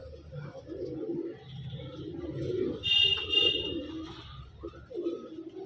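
Rajnadi breed pigeons coo in soft, low, repeated rolling calls close by, with a faint higher bird chirp in the middle.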